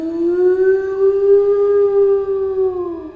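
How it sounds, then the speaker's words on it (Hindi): A dog howls in one long, mournful, steady wail that holds for about three seconds with strong tonal overtones, loud and close, with no other sounds around it. "किसी कुत्ते की रोने की आवाज ने मेरा ध्यान खींचा"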